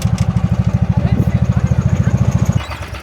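A car engine at an Adelaide jamboree rapidly bouncing off the limiter when a two-step failed, a loud, close, choppy stutter of about thirty even pulses over two and a half seconds before dropping away.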